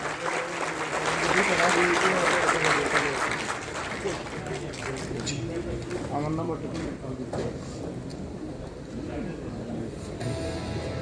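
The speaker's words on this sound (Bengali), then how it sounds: "তাদের সকলের জন্য একটা জোরে করতালি হয়ে যায়।" An audience applauds the judges at the Bangabandhu Innovation Grant 2021 closing event. Loud, dense clapping fills the first few seconds, then fades under a voice speaking over a microphone.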